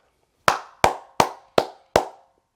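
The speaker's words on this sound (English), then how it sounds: "Round of applause for the whole entire team" Five slow, evenly spaced hand claps ring out close and sharp, each with a short decay, in an otherwise quiet room.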